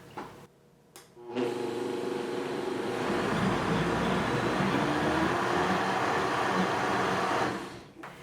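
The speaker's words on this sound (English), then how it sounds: "I'm going to blend this up." A blender whirs through a tomatillo salsa verde mixture, starting after a couple of brief clicks and running as a loud, steady motor grind for about six seconds before winding down at the end.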